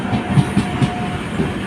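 A train rolls past close by near Puri, heavy wheel clatter thumping in a steady clickety-clack rhythm with a faint whining tone above it.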